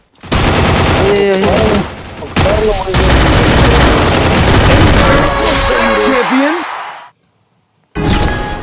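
Rapid bursts of gunfire from the battle game Free Fire, loud and sustained with dense automatic fire and shots, cutting to near silence briefly before another burst; a player's voice talks over it.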